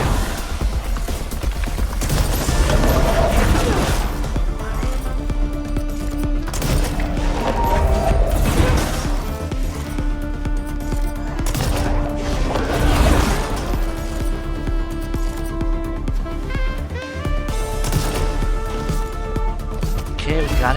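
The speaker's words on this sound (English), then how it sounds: "He's dodging all my shots." Rapid gunfire rattles through the action game Control, with bursts of shots and heavy impacts layered over loud music and effects while a player talks over the fight.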